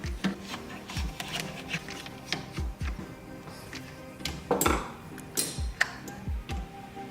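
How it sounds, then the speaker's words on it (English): Screws are undone on the heating control panel in a Subaru WRX dashboard, a close series of small clicking and ratcheting ticks with scattered rubbing and rattles, no voices. "So undo these screws here."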